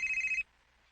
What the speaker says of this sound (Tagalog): Naay nang nawag, basin si Papa Francine.